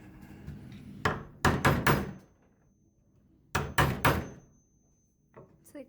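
A chisel knocked against wood to break a small chunk out during bed building, two clusters of three sharp, loud thumping blows separated by a pause, close by, plus a faint tap at the end.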